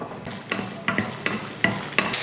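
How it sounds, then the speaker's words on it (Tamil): Small shallots and garlic cloves sauté in oil for a fish curry with a close, crackling sizzle, punctuated by about six sharp spatula scrapes and clacks in a steady stirring rhythm, with no speech. "இதில் ஒரு பத்துலேருந்து இருபது போல் சின்ன வெங்காயம் சேர்த்துருவோம் நாலஞ்சு பூடுப்பல் இப்போ இதை வதக்கிடுவோம்"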